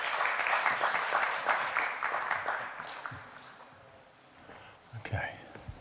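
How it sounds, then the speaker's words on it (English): Applause rises at an architecture and design conference as a speaker is welcomed onto the stage, a dense clapping wash that thins and fades midway, followed by a few brief stray sounds near the end. "Let's welcome with warm applause here on the stage Mr. James P. Williamson."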